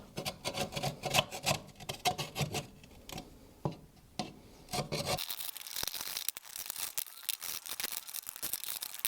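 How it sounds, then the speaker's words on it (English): An old chisel scrapes remnants of a worn door seal off a VW T2 bus, close, steady rasping strokes that shift to a harsher, brighter scraping partway through. "just use this old chisel to scrape off all the remnants of what I'm laughingly calling a seal"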